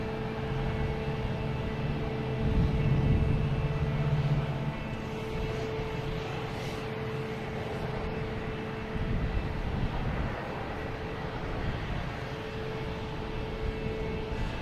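Airliner landing at Boston Logan Airport, a steady broadband engine roar at moderate distance that swells slightly early on and then holds evenly throughout, with no talking.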